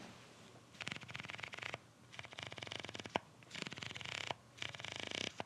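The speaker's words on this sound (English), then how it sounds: "you're doing your aperture changes, you have now an audible and physical click" Aperture ring on a Viltrox 55 mm Nikon Z-mount lens, turned close to the microphone, gives bursts of rapid ratcheting clicks, each run lasting about a second, separated by short pauses and a few sharper single clicks.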